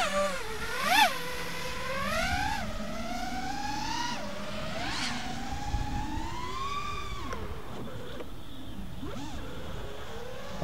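Motors of an FPV drone whine through a test flight, rising and falling in pitch with repeated throttle surges and sweeps, loud and close throughout.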